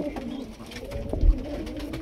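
Teddy pigeons coo softly at close range, low throaty calls repeating under faint background noise.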